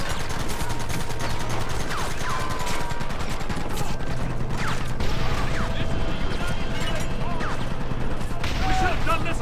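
Gunfire in a Red Dead Redemption shootout: dense, overlapping shots crackling continuously under shouting voices and a steady rumble.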